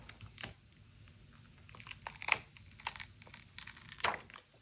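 Stencil being carefully peeled up from a layer of black texture paste, giving a soft, close crackle and crinkle with small sticky tearing bursts, quiet and without talk.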